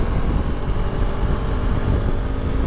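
Heavy wind buffets a helmet at speed while riding a KTM RC390 motorcycle, a loud continuous low roar of rushing air and engine drone without any speech.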